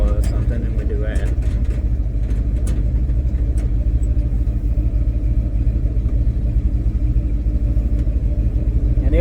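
Truck engine rumbling steadily as the truck rolls down a small hollow on a test drive after a surging and bucking fix, a constant mid-pitched drone with faint clicks and rattles.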